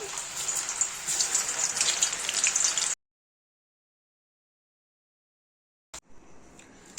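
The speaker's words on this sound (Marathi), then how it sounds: "आपण इथे सोयाबीन तळून घेऊया" Soybean pieces coated in flour sizzle and crackle in hot oil, a dense close hiss of frying that cuts to silence midway, then resumes more faintly.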